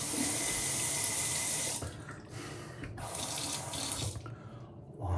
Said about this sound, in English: Water, water.